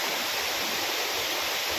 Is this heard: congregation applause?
no